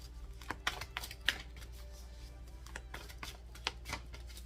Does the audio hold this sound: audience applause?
no